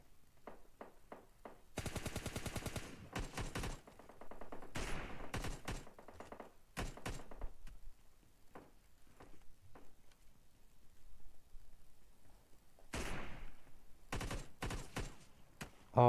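Bursts of automatic gunfire in the mobile battle-royale shooter PUBG Mobile Lite, several sharp, loud volleys of rapid shots separated by short quiet gaps, with single pops between them.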